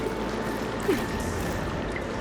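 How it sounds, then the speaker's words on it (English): Water runs through pipes in Horizon Forbidden West: a steady, moderate rushing and trickling flow with a low rumble and a faint whistling tone, plus one small splash. "I can hear water in the room again."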